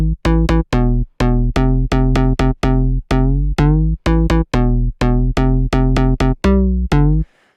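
A future house synth layer pitched an octave higher plays a bouncy, rhythmic pattern of short and longer plucked notes, loud and close, with no voices over it.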